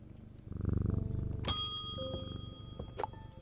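A cat purring in the video game Strange Antiquities, a soft steady low rumble. Bright chime-like ding tones ring out over it.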